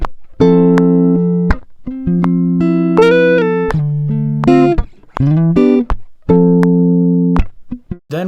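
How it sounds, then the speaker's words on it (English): Clean electric guitar plays a slow lo-fi loop of sustained single notes and small chords, with clear gaps between phrases, loud and close with no voices. "So for this lo-fi loop, I decided to start with some clean guitar."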